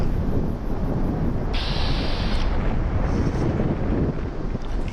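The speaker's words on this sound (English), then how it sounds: "Just the wind." Steady rumbling wind blowing across a desert wasteland in the video game Fallout New Vegas, a loud constant low gusting roar with no voices.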